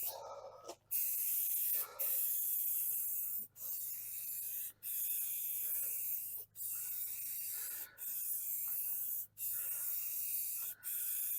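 Short hissing bursts of a spray paint rattle can coating a VW Beetle, about ten sprays broken by brief pauses, steady and close with a faint low hum underneath.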